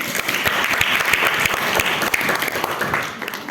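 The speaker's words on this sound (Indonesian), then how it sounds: "Oke, tepuk tangan untuk semuanya." Sustained applause fills a hall during the final of a school quiz competition, many hands clapping in a dense, even roll that stays loud for several seconds before easing slightly at the end.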